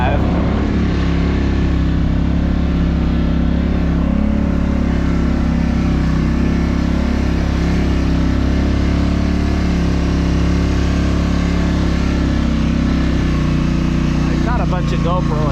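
An off-road vehicle's engine drones steadily in low gear while climbing a rocky trail in two-wheel drive, loud and continuous throughout, with someone talking over it.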